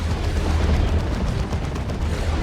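A turret is blown apart in the strategy game Dawn of War 2, a thick sustained roar of blasts and crackling debris rumbling loudly throughout.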